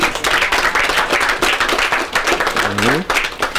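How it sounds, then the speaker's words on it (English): Close, rhythmic clapping from a small group at a news event, with a brief voice rising over it near the end. "Please give them a round of applause"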